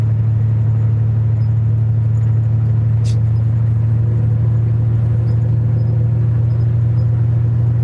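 A semi truck running bobtail with no trailer, heard from the cab as a steady, loud low engine drone and road rumble that holds evenly throughout, with one brief faint click partway through.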